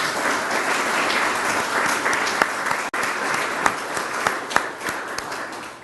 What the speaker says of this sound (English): So you deserve a round of applause yourselves.